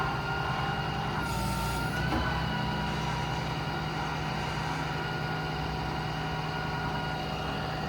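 The hydraulic IMT 7500-30 crane on a 2015 Ram 5500 Cummins diesel service truck runs, with a steady loud hydraulic and engine drone and a brief higher whine partway through.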